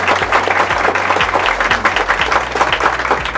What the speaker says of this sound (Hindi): और जोरदार एक बार तालियां आप।